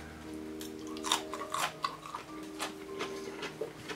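Crunchy bites and chewing of a homemade spicy pickle, several crisp crackles close to the ear over a faint background hum, with no talking.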